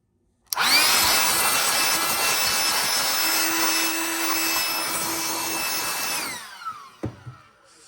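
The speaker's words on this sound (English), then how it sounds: "Let's see if the blower will get that out." A Dyson vacuum blower blasts debris out of a beater bar with a loud, steady high-pitched whine that holds for several seconds, then winds down with a few clunks and rattles.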